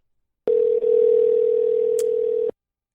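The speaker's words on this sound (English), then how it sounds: "So I'm literally dialing the phone right now as we speak, and it's ringing." An outgoing telephone call rings: one steady, even electronic tone lasts about two seconds and then cuts off sharply, heard alone and clearly.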